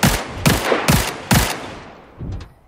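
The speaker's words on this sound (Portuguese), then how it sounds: "Eu atirei no peladinho" Gunfire in the video game Badlanders: four loud, sharp shots spaced about half a second apart, followed by a softer, more distant shot, with no talking.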